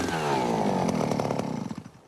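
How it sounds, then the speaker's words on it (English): A motorized drill boring into permafrost in Siberia revs with a harsh, buzzing engine drone that steadies, then winds down and sputters toward the end. "Every year, Dr. Fedorov and his team drill deep into the ground to analyze changes in the permafrost."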